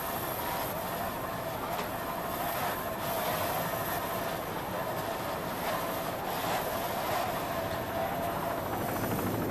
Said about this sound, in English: It's a 32-foot skater catamaran powered by three 270 Mercury outboard motors.